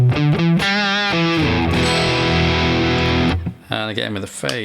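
An Epiphone Les Paul Plus Top Pro electric guitar plays distorted notes and a sustained chord, its tone sweeping with a swirling phaser effect, loud and up close.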